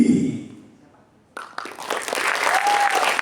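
Audience applause bursts out after a poetry reading at a Ramadan iftar gathering in Purwakarta, a dense, steady clapping that follows a quieter spoken stretch and keeps going strong to the end.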